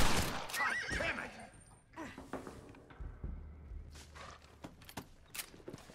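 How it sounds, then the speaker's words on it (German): A horse in the video game Red Dead Redemption whinnies loudly and close, followed by snorts, hoof clops and scattered thuds, with a low rumble underneath. "Looks like Carlos left us some horses."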